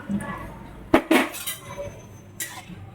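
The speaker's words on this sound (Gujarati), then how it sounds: "અને ધીમા તાપે સતત હલાવી અને શેકવાનું છે" A spoon scrapes and clinks against a metal kadhai while flour is stirred and roasted in ghee over low heat for sukhadi, with a few sharp knocks and softer scraping strokes, close up and without talk.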